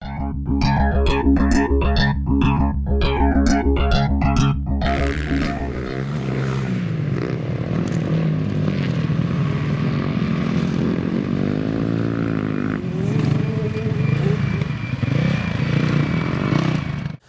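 Honda CRF450X dirt bike ridden on an OHV park track, its engine loud and close, rising and falling through rapid revs at first, then a sustained rough roar as it carries on riding.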